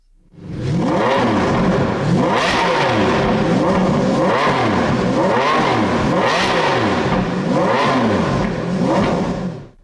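A Maserati MC12 supercar engine revving hard, with several loud rising and falling sweeps in quick succession, close up and sustained, with no voices.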